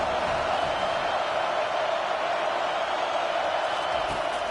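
A football stadium crowd roars steadily as a broad, constant wash of distant cheering and noise, with no break across the stretch.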